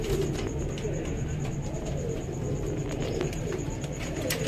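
Pigeons coo softly in the background during a sale of high-quality pigeon pairs, a low murmuring coo under steady ambient noise.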